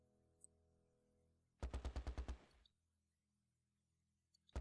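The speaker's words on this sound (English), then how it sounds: "Who is firing right now? Is that the Vickers team?" A Vickers machine gun team in the Close Combat game fires a quick burst of about seven evenly spaced shots, with a lone shot at the end; the shots are heavy and thumping but sound somewhat distant and quiet.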